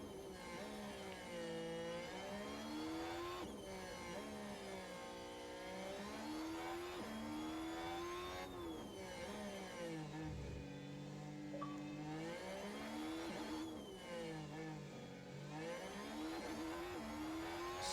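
Scott Speed's race car laps Miami in F1 Manager 24, heard onboard as a loud continuous engine whine that climbs and drops through gear changes and braking.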